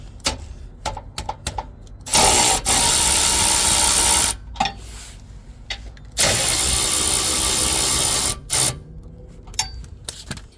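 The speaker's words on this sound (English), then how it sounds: "Loosen these two bolts holding the tow eye hitch on" A ratchet loosening the bolts that hold the tow eye hitch on a new next-generation Ford Ranger, two loud, close bursts of rapid clicking separated by quiet gaps with a few short clicks.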